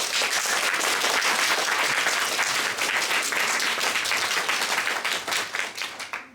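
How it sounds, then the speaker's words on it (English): An audience in the Chiprovtsi Museum claps for a colleague at a 2016 university opening session: dense, loud, continuous applause that holds steady, then thins and fades at the end. "So a round of applause for her,"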